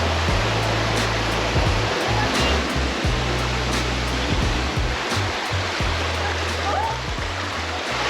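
A jungle waterfall about 25 meters high roars in a constant, broad rushing wash, with irregular low rumbling thumps beneath it from wind or handling.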